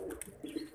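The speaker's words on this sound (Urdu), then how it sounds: "ہائی فلائنگ برڈس ہیں دونوں، لاکھیں، چھوٹے وجود کا کبوتر ہے اور بڑے وجود کی کبوتر" Faint, brief cooing from high-flying pigeons, a pair of one small and one larger bird, heard as a soft low warble over quiet background.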